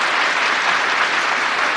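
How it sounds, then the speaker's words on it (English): Audience applause for five astronauts at a panel held at the Indianapolis Motor Speedway, a dense, even wash of clapping that holds steady at full volume throughout the short stretch. "Can you give them a round of applause, please?"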